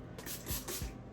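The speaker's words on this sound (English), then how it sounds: "Then I'm gonna go in with my volume spray" Hair volume spray hisses from a can in a few short close bursts, soft and airy with light rubbing between sprays.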